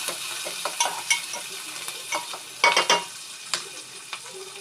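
Sliced onions, split green chillies and curry leaves fry in a pan for a tamarind-based bendakaya pindi charu. A soft crackling sizzle is broken by repeated sharp metallic scrapes and clatters of stirring, heard close up.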